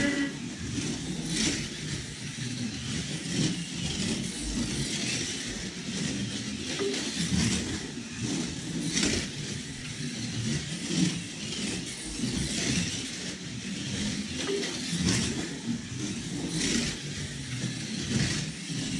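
Slot cars in a GT3 shootout race around a track with a steady whirring electric-motor buzz that swells and fades in repeating laps, a dense continuous rush of motor noise.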